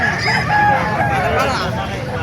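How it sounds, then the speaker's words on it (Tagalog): Roosters crowing among many chickens at an outdoor poultry market in Calumpit, loud drawn-out calls overlapping close by, with crowd chatter and voices underneath. "Dami pang mga manok dito."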